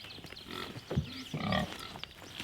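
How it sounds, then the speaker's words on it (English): Pigs grunting in the morning on a garden farm, a few close, low grunts and snuffles over faint background noise. "Can you believe what beautiful pigs these are?"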